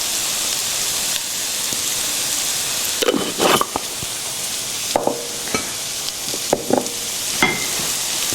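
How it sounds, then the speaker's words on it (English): Elk meat seasoned with salt and pepper is stirred in a hot pan under a steady sizzle, with several sharp scraping strokes of the utensil standing out. "Get that nice and mixed through."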